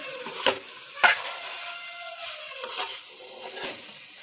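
Ivy gourd with coriander is stirred in a pan, a soft sizzle under a few sharp spatula scrapes and taps against the metal, spaced irregularly, with no voices.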